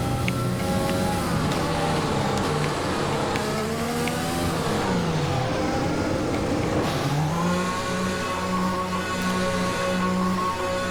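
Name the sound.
racing car engine in a video game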